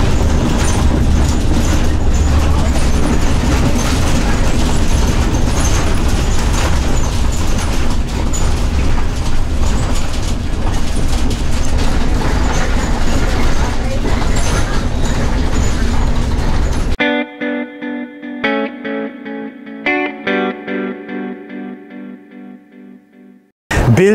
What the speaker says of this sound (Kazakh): Енді қазір біз жүреміз, сол кезде тыңдаңыздаршы, қалай автобусты қатты шайқайды.